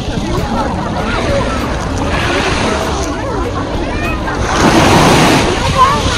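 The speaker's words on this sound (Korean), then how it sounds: "파도 봐." Sea waves wash onto the beach at Wangsan on Yeongjong Island on the Yellow Sea coast, a loud, continuous surf hiss that swells toward the end, with wind buffeting the microphone and voices faintly in the background.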